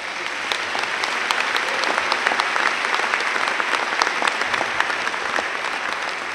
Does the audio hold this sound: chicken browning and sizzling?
no